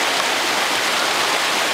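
A river stream rushes steadily with rafters floating downstream, a dense, continuous broadband wash of flowing water that stays loud and even throughout with no voices.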